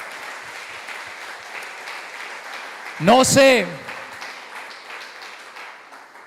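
Congregation applause during a church service, steady clapping all the way through, with a brief spoken interjection over it midway.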